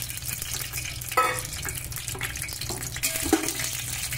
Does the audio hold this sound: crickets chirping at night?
no